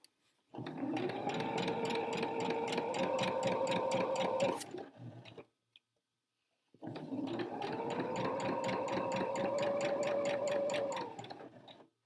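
A sewing machine stitching a curved blouse seam, two close bursts of rapid, even mechanical whirring with fast needle ticks, separated by a brief silent pause.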